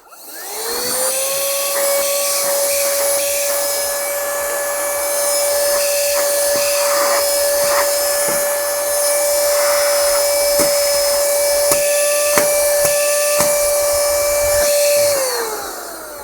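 A small 12-volt corded car vacuum cleaner, Aspiring Gale 2 Cord 6500 Pa, starts up and runs with a steady high whine, loud and close, with faint clicks and handling noises, then winds down at the end.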